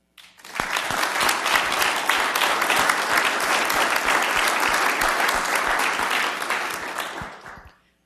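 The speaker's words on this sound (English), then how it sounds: "Please thank them with your applause." A crowd applauds at a local candidates night forum, a loud sustained burst of clapping that swells quickly, holds steady for several seconds and then tapers off.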